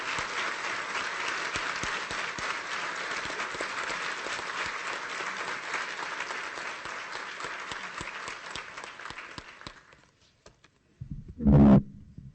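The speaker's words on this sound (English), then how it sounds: "please join me in welcoming Dr. Reed with a thunderous round of applause" A large audience at a veterinary school white coat ceremony gives a sustained round of applause welcoming the speaker, thick and even for about ten seconds before fading out, followed by a brief loud thump.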